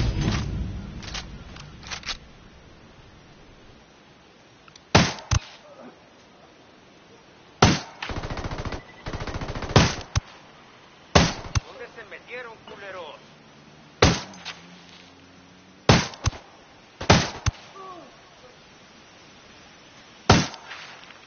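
Gunfire in the video game Ghost Recon Wildlands, sharp loud single shots spaced irregularly, about a dozen across the stretch, with voices talking between them.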